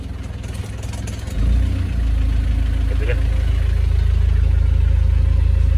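A Nissan D21 Hardbody's TD27 turbo diesel engine idles steadily after a cold start with no glow plugs, a low, throbbing chug, close by, after a brief rise in level near the start.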